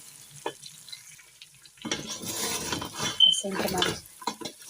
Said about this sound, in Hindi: ऐसे अब हम हिला लेंगे